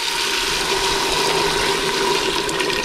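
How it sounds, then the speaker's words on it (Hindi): Hot water is poured into a pot of roasted chickpeas, a loud, steady rushing splash that fills the whole stretch without a break. "अभी हम इसमें पानी ऐड करेंगे और पानी इसमें गर्म ऐड करना है"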